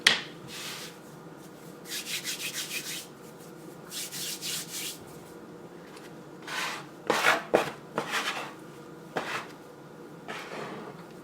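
A dough scraper works sourdough across a work surface in repeated short rubbing scrapes that come in bursts, close up and fairly quiet, with no talking.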